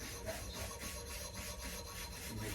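Soft, repeated rubbing strokes of wax being worked onto a 1950 Olds Ambassador trumpet during restoration, a quiet close-up scrubbing in an even rhythm with no talk.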